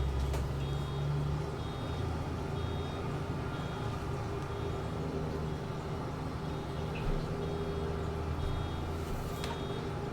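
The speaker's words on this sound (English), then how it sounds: "That's got rid of the incessant beeping." A vehicle's reversing alarm in Farming Simulator 22 on the Maypole Farm map, beeping in a steady repeating rhythm over a continuous low engine rumble, clear and fairly near.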